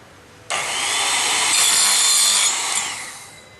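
A saw rasps steadily through a lattice panel for a porch in one continuous, close cut lasting a few seconds before trailing off, with no talking.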